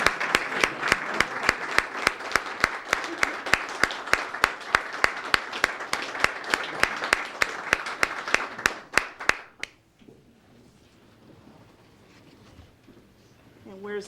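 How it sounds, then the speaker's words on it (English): A ceremony audience claps steadily for about nine and a half seconds at an employee recognition event, a loud, dense round of applause that ends abruptly and leaves a quiet room with faint murmurs. "give a round of applause to yourself and to the City Scholars"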